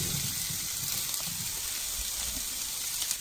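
Onions, carrots and potatoes frying in oil in a pan over medium heat, giving a steady, dense sizzle and hiss that holds evenly throughout with no talking.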